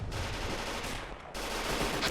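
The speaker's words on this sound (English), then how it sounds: "We have our mortar firing off." Mortar fire in a Gates of Hell WWII battle on a Soviet front, heard as dense, continuous battle noise with overlapping thuds and crackling shots, steady and loud throughout with a brief dip near the middle.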